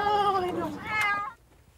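A cat rescued from the water after a boat fire meows in one drawn-out, rising-then-falling cry, close and clear, followed by a brief second call before fading out.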